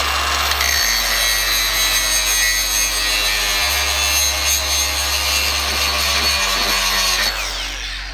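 A Milwaukee cordless braking grinder grinds loudly and continuously up close, a harsh abrasive roar with shifting pitch as pressure on the workpiece varies.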